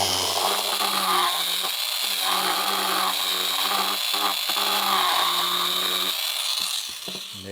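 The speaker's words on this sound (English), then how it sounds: "what I like to go do is just take my Dremel" A handheld Dremel rotary tool whines steadily at close range while cleaning up a drilled hole in a Tottoms PRO Kit part during installation, a continuous high buzz with slight load changes before tapering off at the end.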